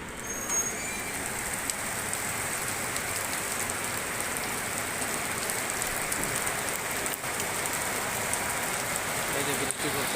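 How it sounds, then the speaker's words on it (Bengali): Heavy rain falling after a long hot spell, a dense continuous hiss of drops on surfaces with occasional sharper splats, loud and even throughout, with passing traffic faintly underneath. "এই যে বৃষ্টি পড়তেছে"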